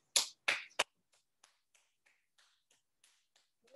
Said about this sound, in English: we're gonna just tap the bottom of our foot